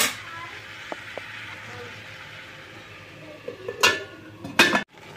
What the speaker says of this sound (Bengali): তো এখন আমি এটাকে ঢাকা দিয়ে দেব।